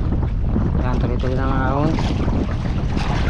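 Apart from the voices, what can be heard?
motor boat moving against the current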